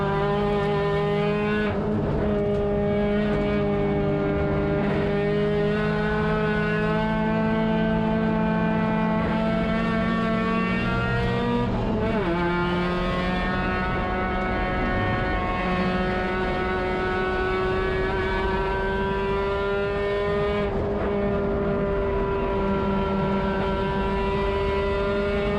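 Spec-Mazda race cars on a circuit, engines droning loudly and continuously as several cars run close together, pitch rising and shifting as they pass, with no voices.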